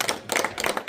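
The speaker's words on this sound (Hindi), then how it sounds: "ताली बजाएं।" A few people clap their hands in short, loose bursts, moderately close and without any talk over it.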